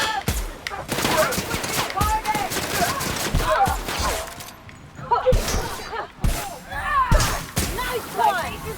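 Gunfire in The Outer Worlds video game: rapid bursts of shots and volleys cracking loudly in clusters, with brief pauses between them, under occasional voices.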